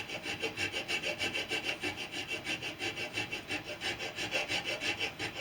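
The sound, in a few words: file cutting a steel replacement blade for loppers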